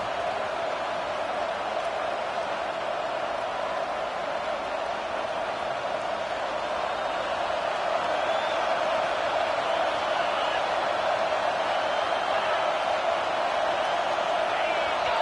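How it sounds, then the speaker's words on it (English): A dense, steady stadium crowd roar fills a college football video game match between Georgia and Washington, loud and unbroken for the whole stretch with no clear voices above it. "with this place rocking, the crowd forces a false start"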